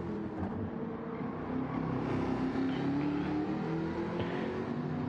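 Race cars in Gran Turismo 7 during an online race round, engines droning steadily with a continuous mid-pitched roar that swells slightly as cars run down a straight, no clear speech.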